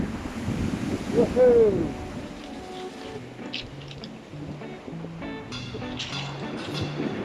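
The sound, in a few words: sea surf waves at Alum Bay, Isle of Wight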